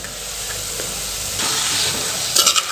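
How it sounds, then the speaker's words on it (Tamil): Onions fry in a pan with a steady close hiss and sizzle, with a brief scrape of stirring near the end. "இப்போ வெங்காயம் பாருங்கள் நல்லா வதங்கி இந்த அளவுக்கு கலர் சேஞ்ச் ஆச்சுங்க"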